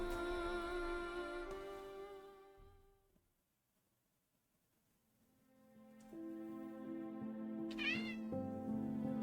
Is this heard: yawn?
no